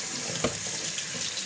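Tap water runs steadily into a kitchen sink as the handle of a blender jar is rinsed, a close, constant splashing with a brief knock of the jar.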